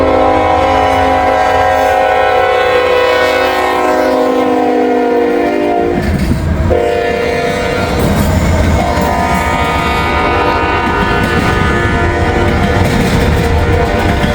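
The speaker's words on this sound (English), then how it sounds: "Got a Norfolk Southern train coming." A Norfolk Southern freight train approaches with a long, loud blaring horn, then the horn cuts off around midway and the heavy rumble and clatter of the passing cars take over, close and sustained.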